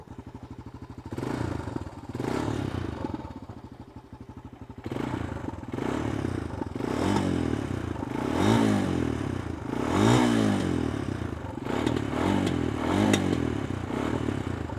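A 2023 Honda TRX250X ATV engine idles with a rattling clatter, then revs up several times in rising, rough bursts, close and fairly loud.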